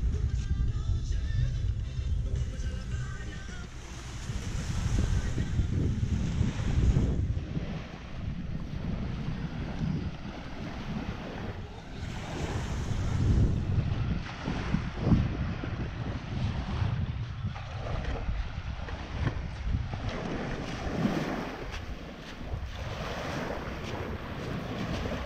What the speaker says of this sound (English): Something about being next to the ocean that is so soothing, so relaxing.